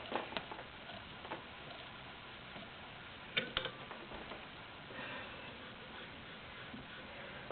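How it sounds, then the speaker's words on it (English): A vintage Singer Model 15-91 sewing machine stitches fabric samples with a faint, quiet mechanical whir and soft ticking, broken by a couple of brief clicks. "Very nice, smooth running machine."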